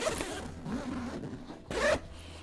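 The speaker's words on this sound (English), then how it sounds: "this main pocket zips from the bottom all the way around to the top" The main compartment zipper of an Alpaka Elements 35L travel backpack is pulled open in long, close, raspy strokes, ending with a brief louder burst, with no voices.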